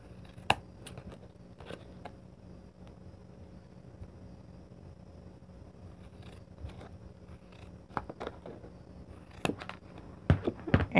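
Scissors cutting through a dollar-store DIY polo shirt pocket logo guide, with scattered short snips and crisp cuts that bunch up and grow louder toward the end, heard close with no talking.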